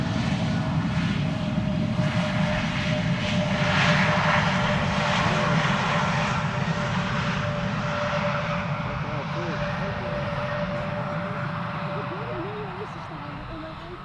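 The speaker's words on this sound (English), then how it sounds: "Absolutely no reversers being used by Air Transat." An Air Transat airliner lands on Schiphol's center runway without thrust reversers, giving a steady broad jet roar that holds throughout and fades slightly toward the end, with a faint tonal whine above it.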